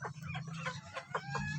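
Free-range village chickens cluck in a steady run of short, overlapping calls, close and fairly loud, with a low constant hum running beneath them and no talking.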